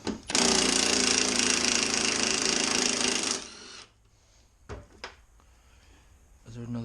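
A Milwaukee power tool strains loudly for about three seconds to remove a seized fender bolt on a Jeep TJ, then stops, followed by a few short clanks and quiet shuffling.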